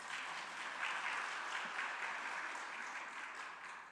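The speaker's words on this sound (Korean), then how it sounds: "박수 한번 드리겠습니다" A church congregation claps for the choir at an evening service, a full, even wave of applause that swells early and slowly thins toward the end.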